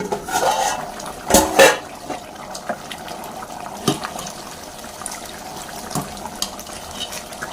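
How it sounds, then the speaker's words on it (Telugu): Water splashes and pours into a metal pot for cooking chicken biryani, with a brief burst of clattering near the start and a few faint clinks afterward; no talking. "ఇప్పుడైతే వాటర్ పోసుకున్నాను"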